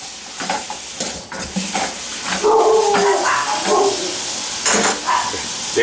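Dogs bark and yip in a home kitchen while vegetable lasagne is being prepared, several uneven bursts over soft kitchen clatter.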